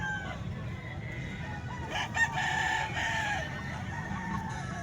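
Young ball-stag rooster crowing at a moderate distance over steady outdoor background noise, one drawn-out crow rising and falling, with soft clucks from other fowl around it.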